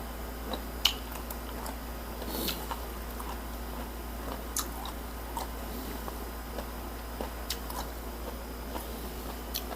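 Someone chews crunchy cartilage from a cooked salmon head, producing faint, scattered crisp clicks and crunches spread irregularly over a low steady hum, with no talking.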